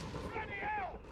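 Grenade blasts in a Company of Heroes 3 2v2 match on the Eindhoven map, a short burst of explosion and gunfire-like crackle with loud, dense energy over about a second, mixed with battle noise and some voice.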